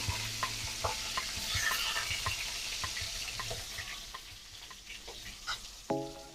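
Onions frying in a pan for chicken biryani, a soft sizzle under repeated scrapes and taps of a stirring utensil, with a clatter near the end.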